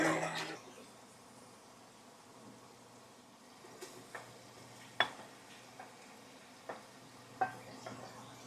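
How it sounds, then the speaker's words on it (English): Onions, red pepper and garlic stir-frying in a pan for a homemade marinara sauce, a soft steady sizzle broken by a few sharp clinks and taps of a utensil against the pan, close and alone. "I am now stir frying them or browning them with the garlic."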